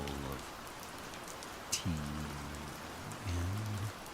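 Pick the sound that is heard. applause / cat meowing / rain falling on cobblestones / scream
rain falling on cobblestones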